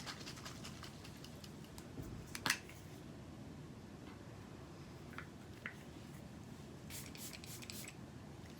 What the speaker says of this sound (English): I give it a bit of a squirt to just spray my face.